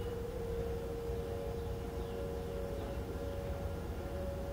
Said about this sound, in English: Storm sirens.